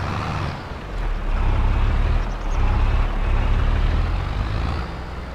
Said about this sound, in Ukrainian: акуратненько туди їде погрузчик